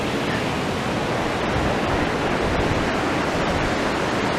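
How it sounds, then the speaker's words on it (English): Sea waves washing beneath Blackpool North Pier, heard from the boards above as a steady, dense rush of surf with no voices. "I do love the sound of the sea."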